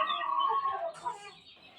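A gamefowl rooster at a gameyard gives a loud, close, drawn-out call that fades toward the end.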